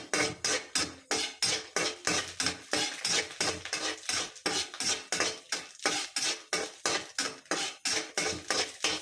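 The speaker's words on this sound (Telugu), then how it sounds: "కొంచెం ఫ్రై చేసుకోండి ఇట్లా." Ivy gourd stir-fried in a pan, with a brisk, regular run of about thirty scraping, clanking utensil strokes over a soft sizzle, loud and close with no talk.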